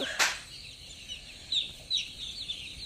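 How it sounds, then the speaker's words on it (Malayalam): Chickens on a poultry farm around feeding time give a few short, scattered clucks and squawks, one sharper call near the start, over a quiet background hum. "കോഴികൾക്ക് നമ്മൾ തീറ്റ കിട്ടു"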